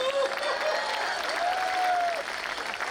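Audience applause at a Hindi comic poetry gathering, a steady crowd clap held throughout, with a sustained whistling tone gliding above it.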